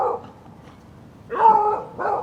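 Dogs bark outdoors near a truck camper, a couple of separate, fairly loud barks breaking a quiet background, one longer bark in the middle and a shorter one near the end.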